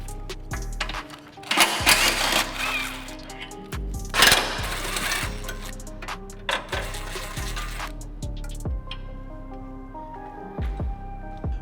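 Rattling, whirring bursts of a power tool or ratchet undo the four bolts on the skid pan under a 2015-2021 Subaru WRX, loud and close, with clanks and brief pauses between spins.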